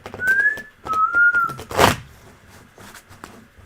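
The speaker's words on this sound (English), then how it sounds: "The sexy whistle." Two sustained whistled notes, the second longer, followed by a sharp thump and some quiet rustling.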